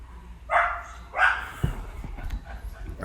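Ginger, a pet dog, gives two sharp barks close by indoors, followed by softer scuffling and rustling noise.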